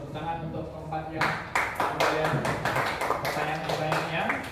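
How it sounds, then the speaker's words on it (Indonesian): A class of fifth-grade students applauds a classmate's good question during a lesson on human breathing organs, a burst of clapping starting after a moment of talk and continuing steadily, with voices mixed in. "tepuk tangan untuk keempat yang"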